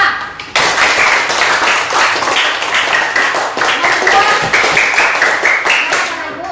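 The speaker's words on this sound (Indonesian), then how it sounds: "Tepuk tangan untuk kelas 5." Students clapping together in a fifth-grade classroom, a dense, steady burst of hands that starts abruptly and holds loud and close for several seconds before easing slightly.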